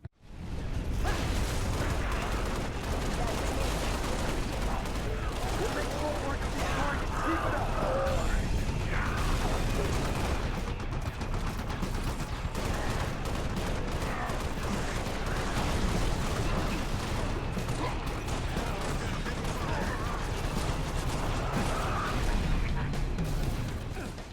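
Chaotic Halo beachhead assault combat in a video game: dense, continuous weapons fire, drop-pod impacts and whooshing blasts blend with an orchestral music track, loud and unbroken throughout, with a voice talking over it.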